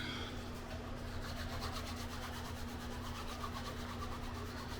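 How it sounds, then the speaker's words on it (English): Canvas rubbed briskly against the edge of a leather business card wallet to burnish it, making a steady, close, continuous scraping friction with a fast back-and-forth rhythm and no voices. "I'm just going to take my canvas, give it a rub."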